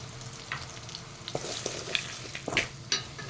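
Kashmiri chili, fenugreek powder and asafoetida frying in oil for a rambutan pickle, stirred in the pan: a soft continuous sizzle broken by sharp, close scrapes and clinks of the spoon.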